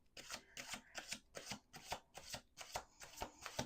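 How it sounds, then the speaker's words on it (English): Tarot cards being shuffled by hand in a steady rhythm of about eight quick riffling bursts, close and soft, with no talking. "One more shuffle."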